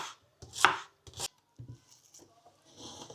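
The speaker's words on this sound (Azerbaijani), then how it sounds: "İlk öncə soğanı lay-lay doğrayırıq." An onion is sliced in layers with a knife for Uzbek plov, a few sharp, crisp chopping strikes on a board close by, separated by quiet gaps and soft rubbing.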